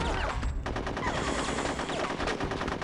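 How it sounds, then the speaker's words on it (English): Rapid automatic gunfire rattles continuously in the Conker's Bad Fur Day video game, a dense, loud stream of shots with no pauses. "I was shooting right at him"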